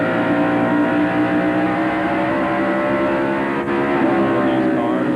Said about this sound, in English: These guys split the 77 car going in turn 3.